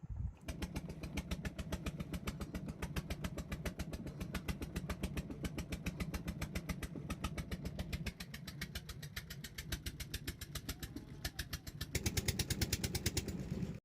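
Tourist boat engine on a river in the Sundarbans, a steady close mechanical throb with fast regular firing pulses that stay even throughout and grow a little louder near the end.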